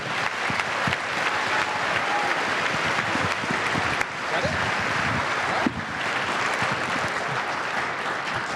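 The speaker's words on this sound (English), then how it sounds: "an applause for our 6th, 7th, and 8th grade bands who are about to begin the program" Sustained audience applause at a school all-county band concert, welcoming the 6th, 7th and 8th grade bands; dense, steady clapping from a large crowd fills the space evenly throughout.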